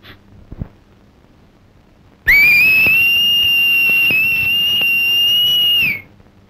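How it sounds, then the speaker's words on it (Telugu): A loud, piercing finger whistle held steadily for about four seconds, starting abruptly and tapering at the end, over a quiet room background. "ఈల వేయటం నాకు మాత్రం ఇష్టమన్నా"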